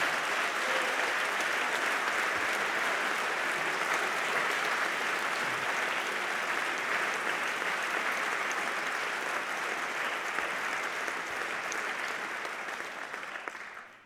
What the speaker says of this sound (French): je vous demande des applaudissements pour faire entendre notre appel à la libération immédiate de